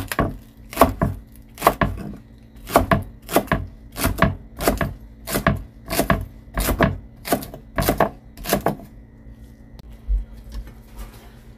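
Knife chopping spring onion leaves on a cutting board, a steady run of about a dozen crisp, evenly spaced close-up chops that stops near the end, leaving quiet room tone.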